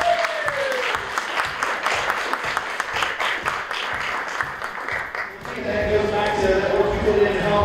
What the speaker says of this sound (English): Let's give a big round of applause for all these contestants.